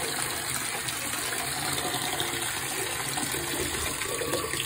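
Water sloshes and splashes steadily in a filled bathtub as a small pet swims, a continuous close wash of moving water with no voices.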